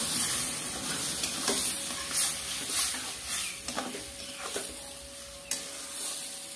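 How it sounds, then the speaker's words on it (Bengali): Boiled dal with vegetables is stirred in a hot pan over cumin paste, giving a soft sizzle broken by repeated scraping strokes of a spoon. The strokes come in an irregular rhythm, close and fairly quiet. "ডাল দিয়ে নাড়াচাড়া করে নিয়েছি।"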